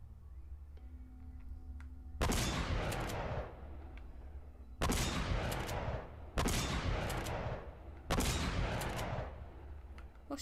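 Bursts of gunfire from the Uncharted: Drake's Fortune video game, four loud sustained volleys separated by short gaps over a low game ambience.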